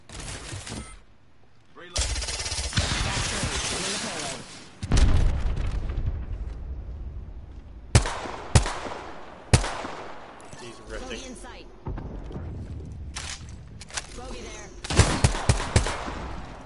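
Bursts of gunfire in an online shooter video game, with long loud rattling volleys followed by several sharp separate shots, some near and heavy, others shorter cracks, mixed with game effects.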